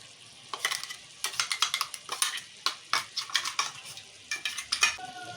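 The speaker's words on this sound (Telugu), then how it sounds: "ఇప్పుడు తయారు చేసుకున్న మసాలా ముద్ద వేస్తున్నా" Masala paste being added and stirred into a bottle gourd curry, with a quick run of close, sharp spoon-against-pan scrapes and clinks in an uneven rhythm and no talking.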